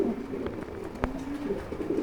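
Soft, low cooing of Afsan Grizzle pigeons murmurs steadily close by, a gentle throaty burble with a brief sharp click midway.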